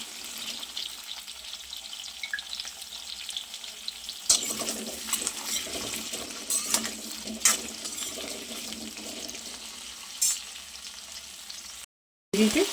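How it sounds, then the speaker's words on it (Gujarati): Potatoes fry in oil over a medium gas flame for garlicky potato curry, with a steady crackling sizzle and occasional scraping stirs, and a brief silent gap near the end. "ગેસની ફ્લેમને મીડિયમ રાખીશું અને આને સરસ ગોલ્ડન કોટિંગ આવે ત્યાર સુધી ફ્રાય કરીશું."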